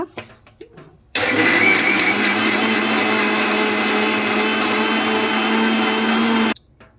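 A mixer grinder grinding ajwain (carom seeds) whirs loudly and steadily for several seconds, starting abruptly and cutting off just as suddenly, with faint sounds before and after.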